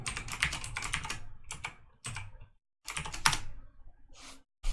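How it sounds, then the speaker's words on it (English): Typing on a computer keyboard connected to a Raspberry Pi, quick bursts of clicking keystrokes close to the microphone, separated by brief silent pauses. "let's see if I can type in here"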